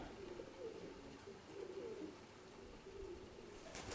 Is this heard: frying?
no